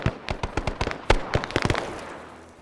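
Rapid bursts of gunfire in a Vietnam War video game, on a mission at a SOG airbase, crack out in quick uneven volleys, some shots overlapping, then trail off into fading echoes with no voices.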